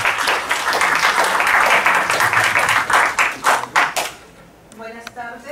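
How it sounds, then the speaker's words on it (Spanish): Audience applause welcoming a speaker at an academic forum on the Jaqaru language, a dense steady clapping that thins into scattered claps and fades toward the end. "recibiéndola nuevamente con un fuerte aplauso a la profesora emérita Escobar Zapata"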